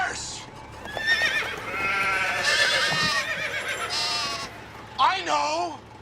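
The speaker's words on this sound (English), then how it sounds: "How about the smelly goat?" In a movie scene, a goat gives wavering, quavering bleats, a couple early on and a louder, clearer one near the end, mixed with people talking.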